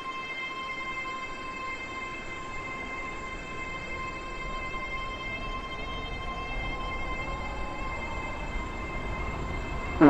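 A train runs in the Roblox game Stepford County Railway, giving a steady, moderate electric motor hum with sustained tonal whine throughout, ending with a brief sharp burst.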